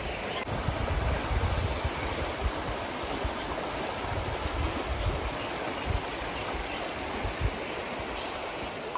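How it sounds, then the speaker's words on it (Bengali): The Murti river rushes in a dense, steady broadband roar of flowing water, close and unbroken, with no voices over it. "অসাধারণ নদীটা, অসাধারণ।"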